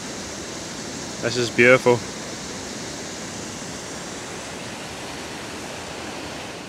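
Waterfall in the Scottish highlands, a constant broad rushing roar close by, steady throughout, with a brief spoken remark early on.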